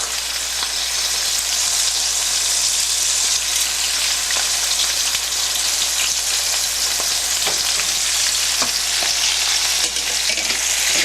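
Chicken pieces fry in hot oil over a full flame, giving off a loud, continuous crackling sizzle with dense popping spatters. The sound is close and steady, with no voices.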